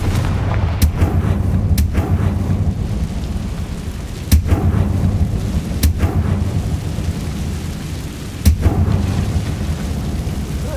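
Fire-spell blasts from the Confringo spell in Hogwarts Legacy: several sharp explosive booms land at uneven intervals over a constant low rumbling game soundscape, loud and close, with no speech.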